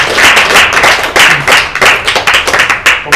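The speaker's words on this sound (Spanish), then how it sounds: "un aplauso para ustedes" An audience gives loud, dense applause at a cultural sound system event, with steady rapid clapping that swells and pulses throughout, close and full with no talk over it.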